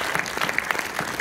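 A small audience at a film premiere in Orléans claps briefly for an absent actress, a short, thin burst of scattered clapping at moderate distance.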